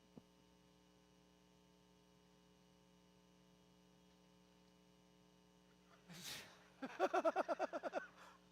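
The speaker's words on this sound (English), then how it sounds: "I think we've got some ventilation that's maybe blowing on this bubble" Steady ventilation hum aboard the International Space Station, a low constant drone with faint tonal lines running throughout, joined near the end by louder bursts of breath-like blowing and rhythmic pulses.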